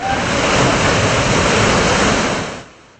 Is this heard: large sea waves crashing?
yes